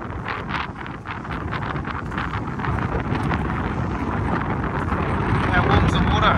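Steady seaside wind buffeting the microphone outdoors, a dense low rumble with gusts that strengthen partway through, continuing throughout.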